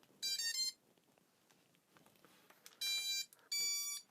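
Electronic startup tones from an FPV quadcopter drone's flight controller: a quick melodic run of beeps, a pause, then two more steady beeps close together, clear over faint background hiss.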